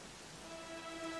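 Rain falls in the video game Dragon Quest XI, a soft, steady hiss of drops that stays faint and even through a brief moment.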